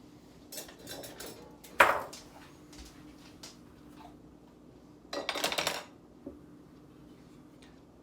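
A fluted cake pan on its stand is pushed down into a Pampered Chef Quick Cooker pot: one sharp metallic clank, then a brief scraping rattle a few seconds later. Quiet room otherwise, no talking.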